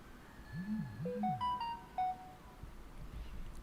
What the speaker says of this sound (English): I'm gonna silence this phone